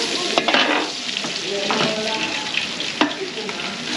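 Garlic and onion sauté in butter and cooking oil at a resort catering setup, giving a close, steady sizzle broken by a few sharp stirring clacks, with no talk over it.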